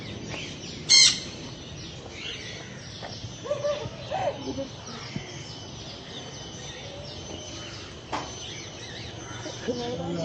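Birds calling around a zoo bird cage, with one sharp bright chirp early on and a few softer calls later, set against steady outdoor background noise and faint voices.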